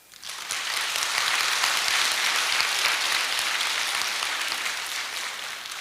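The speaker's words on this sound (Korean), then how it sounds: "박수." Audience applause at a Korean church lecture, a dense, steady wash of clapping that swells in quickly, holds loud and even, and tails off slightly at the end, with no voices over it.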